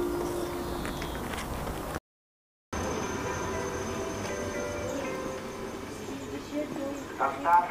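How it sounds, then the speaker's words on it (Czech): A train passes through Blansko město station on a Czech railway line, a continuous rumbling roll of wheels that swells near the end, with a brief gap of silence partway through. "vlak projíždí"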